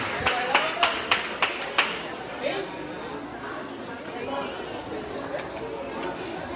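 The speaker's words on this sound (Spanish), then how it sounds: "Bravo, bravo, fuerte el aplauso." Scattered audience clapping, a handful of sharp, loud individual claps in quick succession, then settling into crowd chatter and murmur at a stage event in a Spanish-speaking region.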